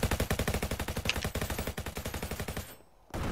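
Rapid automatic gunfire in the Roblox shooter RF Legacy, a fast regular stream of close, punchy shots that cuts off abruptly, leaving a short gap before sound resumes.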